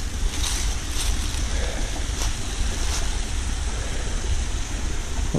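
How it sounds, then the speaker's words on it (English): A river, also called a burn, rushes outdoors in a steady, loud broadband wash of flowing water with wind buffeting the microphone and no voices. "I'm just down at the river, or the burn."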